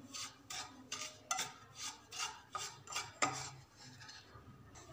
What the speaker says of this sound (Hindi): तो इसे हम लो फ्लेम पर इसे हम धीरे धीरे भूनते रहेंगे।